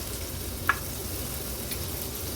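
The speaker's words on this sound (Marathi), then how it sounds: "दुसऱ्या बाजूला आपल्या ह्या तुकड्या पण तळून होत आहेत" Fish pieces fry in hot oil in a pan with a steady, soft, close sizzle, broken once by a brief sharp pop.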